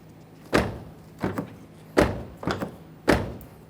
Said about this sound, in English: Now let's just test it by opening and shutting the door.